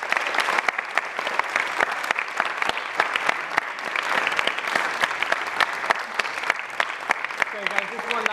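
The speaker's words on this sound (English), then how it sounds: "Let's give one more round of applause" Audience applause at an international school dialogue event on a culture of peace, steady dense clapping from a crowd sustained throughout, with a voice briefly audible near the end.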